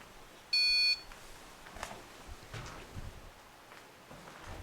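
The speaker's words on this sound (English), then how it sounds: "touch them, try and knock them over, they will set off an alarm" A trigger-object alarm goes off during a ghost hunt at a castle, giving one short, loud electronic beep burst over faint room noise and scattered footsteps and knocks.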